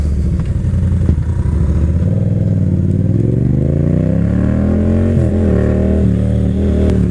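A BMW R1100RT sport-touring motorcycle rides past close by, its boxer engine droning steadily and rising in pitch as it accelerates, then easing off and pulling away.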